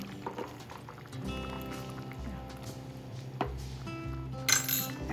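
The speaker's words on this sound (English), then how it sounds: "Add all the grinded paste here and cook this for just 2 to 3 minutes" Ground masala paste cooks in a pot for Chettinad chicken curry, with soft bubbling and gentle sizzling under intermittent metallic clinks of a spoon against the pot, fairly quiet and close.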